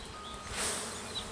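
Honey bees buzzing close by at an open hive during requeening, a dense, wavering drone of many wings that swells briefly midway, fairly quiet and with no talking.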